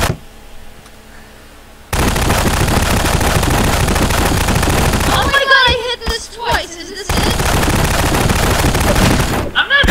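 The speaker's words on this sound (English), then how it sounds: "So much gunfire." Dense, continuous gunfire from a Garry's Mod Prop Hunt match, loud and sustained rapid automatic bursts that start abruptly after a quiet opening, with brief gaps where voices cut through the shooting.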